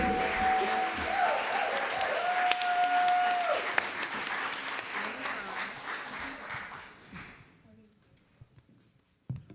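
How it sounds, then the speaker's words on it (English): A congregation bursts into dense, steady applause after a music ministry performance, with a faint sustained tone ringing underneath early on; the clapping gradually thins and dies away into near silence with a few scattered claps. "You know I'm going to ask for another round of applause, right?"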